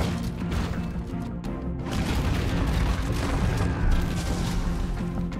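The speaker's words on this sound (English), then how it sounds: "Luckily, the bomb exploded in the basement." Bomb blast in a basement from a film scene, a loud sustained rumbling boom with crashing debris filling the whole stretch, with no talk.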